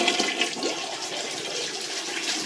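A brand new Mansfield Alto toilet flushing, a loud continuous rush of water swirling through the bowl for the whole stretch, heard up close with no talking.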